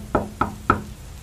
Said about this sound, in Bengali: বাইরে ঝমঝমে বৃষ্টির মধ্যে কড়া নাড়ার শব্দ শুনেই বুঝতে পারলাম কিশোরী এসেছে।